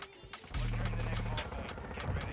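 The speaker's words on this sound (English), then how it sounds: "why are you shooting at me?" Gunfire in Call of Duty Modern Warfare 2, an Expedite 12 shotgun class on a multiplayer map, with rapid sharp shots and a loud low sustained rumble under game noise.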